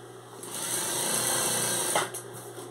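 A sewing machine stitches a 1 cm seam on broderie anglaise eyelet lace, a loud close continuous motor buzz that pauses briefly near the end, with no talking.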